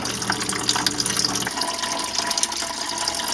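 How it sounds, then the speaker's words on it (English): Salt water poured off a jar during silver plate stripping, a steady splashing liquid stream that runs continuously and close up, with no voices. "I'm going to pour it off again."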